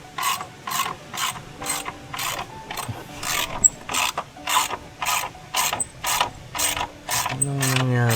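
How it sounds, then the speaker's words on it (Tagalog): A ratchet tightening the swing arm screws of a motorcycle, clicking in a steady rapid rhythm of repeated bursts, close and loud, with no talk over it. "Check na natin lahat ng tornilyo ng swing arm niya."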